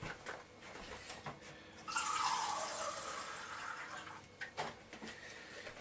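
Water pours steadily into a cup for a couple of seconds, rising in pitch as it fills, surrounded by quiet handling clatter.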